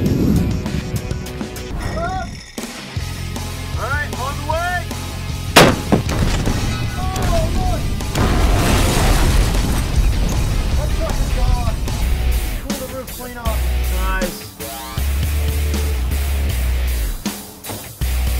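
Heavy booms and blasts as Hellcat rounds strike a pick-up truck target on a range, several sharp impacts spread across the clip with rumbling low tails and lighter clattering between them.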